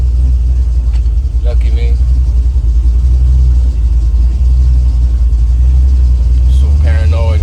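A truck engine rumbles loudly and steadily from inside the cab on a road test drive, a deep continuous drone with brief spoken remarks over it.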